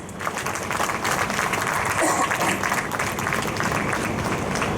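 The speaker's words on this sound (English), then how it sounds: "So a big round of applause for him, please." An audience at an outdoor foundation stone laying ceremony for a children's creche breaks into steady, sustained applause, a dense wash of many hands clapping at moderate distance throughout.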